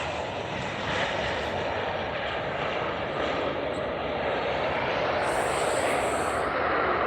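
A South African Airways Airbus A320 airliner landing at OR Tambo International Airport, its engines giving a steady, broad roar that holds at constant loudness throughout with no voices.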